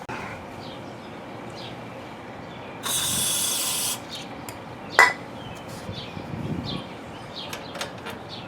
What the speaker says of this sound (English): take some starting fluid here and give it a 1-second blast right into the cylinder